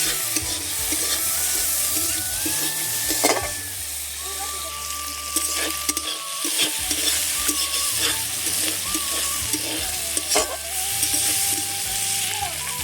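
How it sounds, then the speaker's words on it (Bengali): Shrimp coated in turmeric frying in hot oil, a steady close sizzle with stirring scrapes and faint background hum throughout. "হলুদ দিয়ে চিংড়ি মাছগুলো ভালো করে ভেজে নেব"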